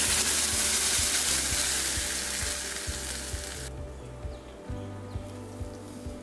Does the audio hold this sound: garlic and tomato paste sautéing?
yes